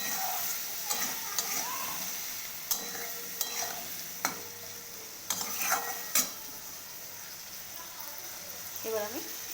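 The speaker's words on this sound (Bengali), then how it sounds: "আর হলুদ দিয়ে দেব। দিয়ে নাড়াচাড়া করে নেব।" Turmeric stirred into paneer and vegetables frying in a pan: a soft sizzle underneath repeated sharp clinks and scrapes of a spoon against the pan, close up, with brief voice-like sounds in the background.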